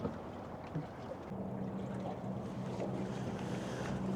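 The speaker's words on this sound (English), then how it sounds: "it's windy, it's wavy" Wind rushes past with a low, continuous buffeting roar during night fishing on wavy water, water lapping nearby and a faint steady hum underneath.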